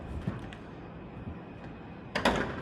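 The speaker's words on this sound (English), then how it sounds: "Go ahead and shut the door." A door shut with a short thud near the end, after quiet background rustling inside a vehicle during money bag weigh-in testing.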